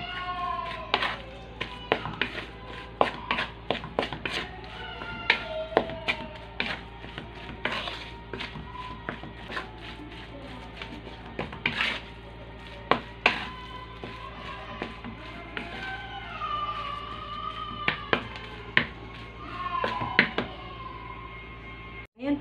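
Ground beef being mixed by hand in a bowl with garlic powder and garlic for meatballs: irregular close taps and clinks of utensil on bowl over a low steady hum, with a voice occasionally present.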